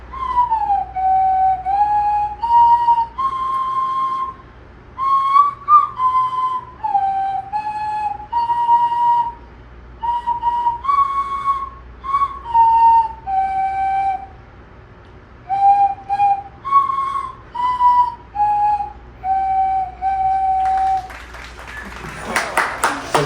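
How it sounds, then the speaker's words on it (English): A slide whistle plays the national anthem, a thin breathy tone gliding between notes in phrased bursts with short pauses, loud and close, ending with a brief clatter. "Kaylee, playing the national anthem on a slide whistle."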